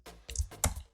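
Several quick clicks of fingers typing code on a computer keyboard, close and crisp, with no talking.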